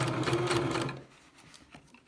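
A sewing machine zigzag-stitches a coiled rope bowl to attach a handle, its close, steady motor whir running for about a second before stopping, leaving quiet clicks.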